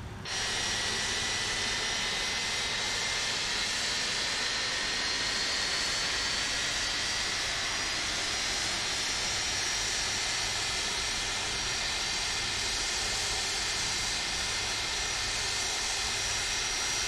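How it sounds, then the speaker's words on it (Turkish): The left jet engine of an MD-82 runs in a flight simulator, a loud, continuous broadband roar with a high whine that holds steady throughout, with no voices over it. "Evet, sol motorun da ignition'ı tamam."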